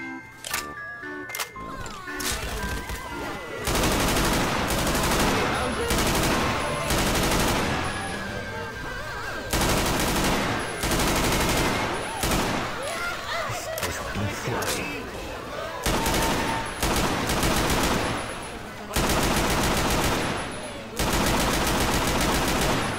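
Sustained automatic gunfire in the zombie shooter Left 4 Dead 2, loud and close, in long rattling bursts separated by short pauses, with players talking over it.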